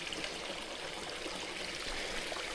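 Rainwater rushing across a mountain bike trail crossing during torrential rain, a steady broadband wash of flowing water that stays loud and even throughout with no voices.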